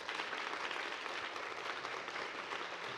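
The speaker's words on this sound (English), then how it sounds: "They really should get a big round of applause." An audience applauds the technical and ticketing staff of the Bloomsbury Theatre, a dense, even roar of clapping that stays loud and unbroken for the full few seconds.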